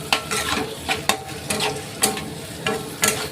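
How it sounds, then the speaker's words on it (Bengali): Onions fry in plenty of oil in a pan, a constant sizzle broken by sharp, regular scraping strokes of a spatula roughly every half second, close and clear with no talking. "ভালো করে লাল লাল করে ভেজে নেব"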